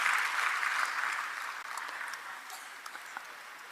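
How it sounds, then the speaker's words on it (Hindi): Audience applause fills the hall to welcome Deepak Dangi at a UPSC achievers' felicitation event, a steady dense clapping that holds throughout and eases slightly toward the end, with no voices over it. "तालियों से स्वागत करेंगे श्री दीपक डांगी जी का।"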